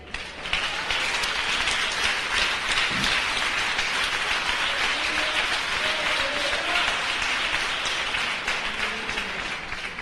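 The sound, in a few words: congregation applauding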